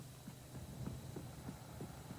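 Horse hooves cantering in a steady three-beat rhythm, regular soft thuds repeating about every third of a second over a low hum, heard alone at moderate level.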